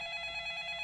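Telephone ringing in a horror video game: a faint, steady electronic ring with a fast warbling pulse, heard alone and held throughout.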